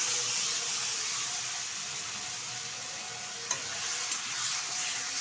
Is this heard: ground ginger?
yes